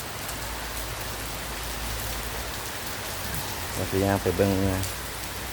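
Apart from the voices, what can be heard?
rain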